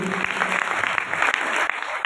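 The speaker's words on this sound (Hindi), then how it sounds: "मैं चाहूंगा एक बार उनके सम्मान में जोरदार तालियां हो जाए साथियों" Loud, sustained audience applause at a Hindi motivational speech, many hands clapping together in a continuous dense roar with a few sharper claps standing out.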